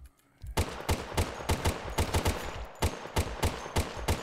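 Gunfire in a Call of Duty Zombies-style game: a steady rapid series of about a dozen sharp, loud shots at a fairly regular rhythm, close and dry, after a brief quiet opening.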